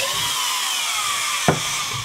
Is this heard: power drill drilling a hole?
yes